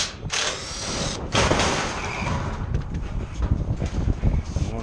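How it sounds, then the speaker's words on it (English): A power drill running in reverse during HVAC preventive maintenance whirs steadily with a rough, buzzing motor sound, mixed with wind-like rumble and some clatter. "Have my drill going the wrong way."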